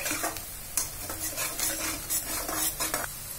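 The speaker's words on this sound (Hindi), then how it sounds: "देखिए, प्याज हमारे अच्छी तरह से भून गए हैं।" Chopped onions fry in a pan for stuffed karela, a steady close sizzle broken by repeated scraping stirs of a spoon against the pan, with no talk.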